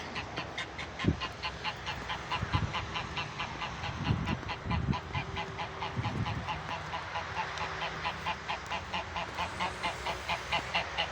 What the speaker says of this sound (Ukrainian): два гуся, а де третій